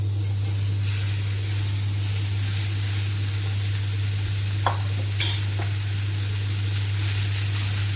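Vegetables fry in butter in a kadai with a constant close sizzle over a steady low hum, broken by a couple of brief clanks of stirring around the middle.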